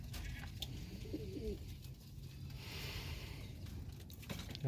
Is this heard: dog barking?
no